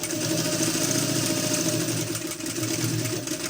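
A sewing machine stitches the fabric of a school pencil case with a steady, close motor whir that keeps running without a break.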